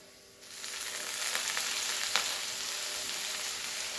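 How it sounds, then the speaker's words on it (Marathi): Fenugreek leaves dropped into roasted green chillies frying in oil in a pan, Maharashtrian home cooking; a steady, close sizzle swells up after a quiet start and continues evenly, with no talking. "आता त्यात आपल्याला मेथी घालून घ्यायची आहे"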